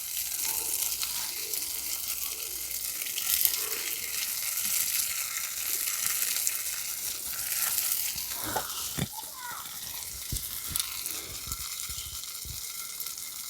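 Homemade tofu pieces simmer and sizzle in a pan of hot water, giving a steady bubbling hiss with a few sharp pops and clinks near the end.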